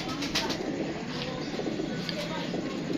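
Pigeons coo softly and wings flap at close range, a continuous low murmur of birds with a few brief flutters, with faint voices in the background.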